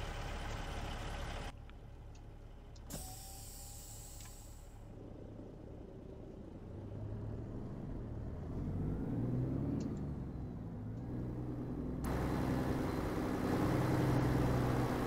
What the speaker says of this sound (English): We're in the W990 by Harvin, Kenworth, with some Transformers.